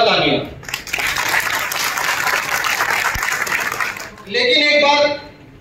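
Vigorous applause fills a hall at a traders' conference in Kanpur, a dense burst of clapping lasting several seconds between stretches of amplified speech.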